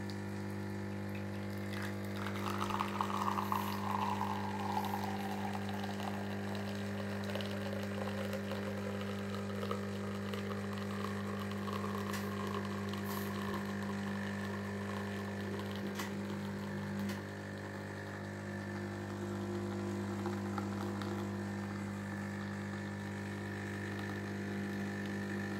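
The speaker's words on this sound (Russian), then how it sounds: "Вот уже выходит здесь кофе." A Bosch VeroCafe Latte coffee machine with a ceramic-burr grinder dispenses coffee into a cup: a steady pump hum and mechanical whir with a trickling pour, continuous and close for about twenty-five seconds, with no talking.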